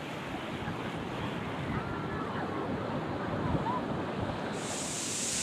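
Sea waves wash onto the beach at Puri in a continuous low roar of surf, heard from nearby and mixed with gusts of wind across the microphone.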